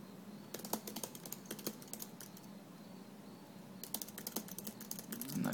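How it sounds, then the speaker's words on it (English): Typing on an Apple wireless keyboard paired with a MacBook Pro, with rapid bursts of key clicks followed by a pause and then another flurry of keystrokes. The clicks are close and moderately quiet and play with no talk. "using the wireless keyboard"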